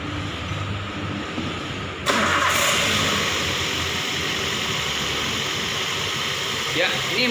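A car engine starts with a sudden jump in level and then runs at a steady idle, a continuous loud hum during a check of the cooling system with the radiator open, while a person talks over it.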